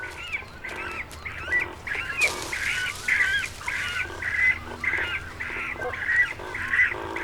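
Cormorants at a small tree-nesting colony on Lake Sempach, Switzerland, give repeated harsh, honking calls in a steady rhythm, moderately close, with a brief burst of broadband noise partway through and no talk.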